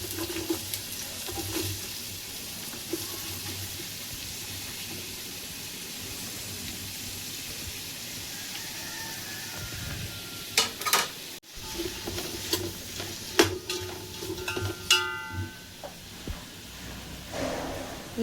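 Onions frying in oil in a pot for dum biryani masala, a steady sizzle running throughout with clinks and scraping stirs growing louder and more frequent in the second half.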